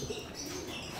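Pigeons in a loft giving a soft, low cooing call at moderate distance, brief and muffled, with no voices.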